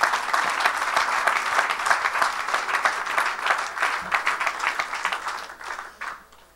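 A church congregation at a Saturday service applauds in dense, sustained clapping that carries on steadily, then thins out and fades near the end.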